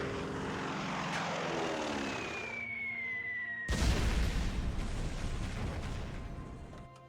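In the Shadow Hearts video game, a plane called in arrives with a loud propeller-engine drone that sweeps past, then a sudden heavy burst of roaring noise, sustained and close with no speech.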